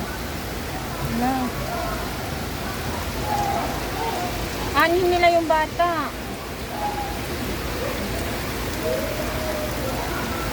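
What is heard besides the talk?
heavy rain falling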